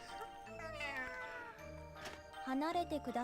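A voice actor imitates a cat's meow for a character in the video game Atelier Rorona DX, a few drawn-out, wavering meows up close, alongside game music and other in-game sounds.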